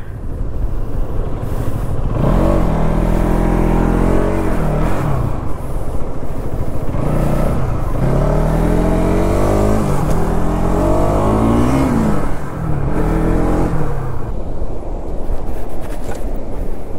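A motorcycle engine, an NS200 or R15 sport bike, revs loudly and close in repeated rising and falling surges over a continuous idle rumble.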